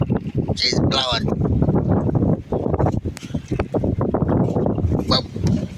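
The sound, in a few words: strong storm wind blowing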